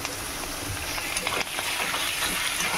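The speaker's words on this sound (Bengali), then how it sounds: "আলুটা এইভাবে ভালো করে ভাজা ভাজা করতে হবে" Potato filling fries in a pan with a steady sizzle that fills the clip, a constant hiss with faint scraping, close and fairly loud, no voices.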